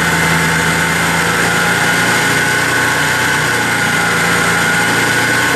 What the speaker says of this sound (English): that motor is running really good right now